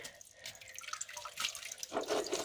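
Water runs from a tap into a basin, a hissing splash that swells louder toward the end with a few drips, no voices over it.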